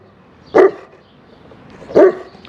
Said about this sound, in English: This is the neighbor dog.